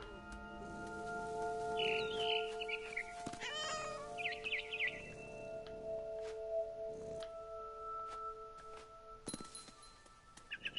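A cat meows several times in the video game What Remains of Edith Finch, with short, clear calls over steady ambient tones and faint chirping.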